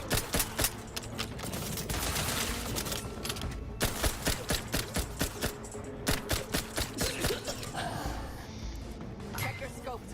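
Rapid bursts of automatic gunfire crackle in The Outer Worlds, sharp repeated shots coming in dense volleys and then sparser clusters near the end, with voices talking between the firing.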